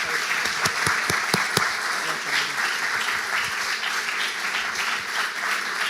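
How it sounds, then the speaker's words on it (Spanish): Audience at a church service gathering applauding a departing guest, dense sustained clapping from a crowd with a few sharp individual claps early on, continuous and fairly loud throughout. "Lo despedimos con un fuerte aplauso al señor y a Fabi."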